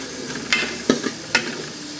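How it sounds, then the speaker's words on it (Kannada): Tomato and onion fry in a pan for a Tulu-style bondus green masala, a soft steady sizzle broken by three or four distinct scraping strokes of a spoon, close and fairly quiet, with no talking. "ನಾನು ಆ್ಯಡ್ ಮಾಡ್ತಿದ್ದೇನೆ ಟೊಮೆಟೊ ಮತ್ತು ಈರುಳ್ಳಿ ಮಿಕ್ಸ್ ಮಾಡುವ ಇದು ಕೂಡ ಸರಿ ಬೇಯಬೇಕು"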